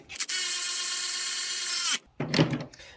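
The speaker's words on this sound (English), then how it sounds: "I'm going to run them down with the electric ratchet" An electric ratchet running nuts down onto studs on a Mini Cooper oil filter housing, giving a loud steady whine for about two seconds that stops sharply, then a short burst of clicking and clunking.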